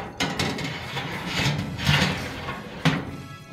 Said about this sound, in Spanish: Ahora ponemos la rejilla.